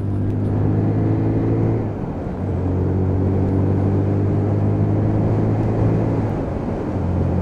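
Lexmoto Assault Euro 5 motorcycle engine pulling hard out of a roundabout, a loud steady close drone that dips briefly as the gear changes, then climbs again under power.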